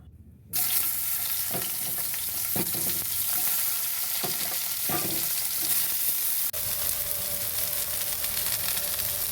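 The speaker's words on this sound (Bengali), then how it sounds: "এবার বেগুনটা ভেজে নেব।" Eggplant frying in a pan with a little oil, a steady loud sizzle that starts abruptly and continues throughout, with occasional stirring scrapes and a brief drop near the end.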